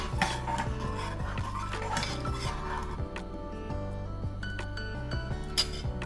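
A metal spoon scrapes and clinks around inside a cooking pot, stirring in salt steadily up close, with no talking.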